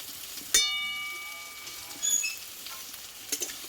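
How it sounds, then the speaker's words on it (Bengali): Potato curry with chopped coriander leaves is stirred in a pan, giving faint sizzling with a sharp metallic clink and ringing at the start. A few soft scrapes follow in a quiet setting. "ধনের পাতাটা দিয়ে আরও আমি কিছুক্ষণ নাড়াচাড়া করে নেব"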